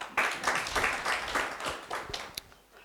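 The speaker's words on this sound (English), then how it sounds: "So please, a round of applause for our Ministry of Health." Workshop audience claps for the Ministry of Health at a clinical officer workshop, a modest round of applause with uneven bursts of clapping that thins and fades toward the end.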